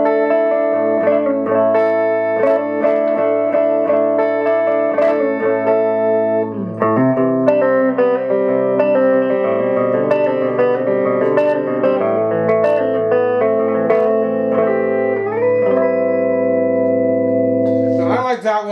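Electric guitar played through a Quilter ToneBlock 200 amp set with scooped bass and a mid-high hump, sustained chords ringing steadily and loud with a bit of reverb, alone without talk.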